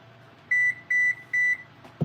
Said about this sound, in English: That beep. Let's go and check that meat.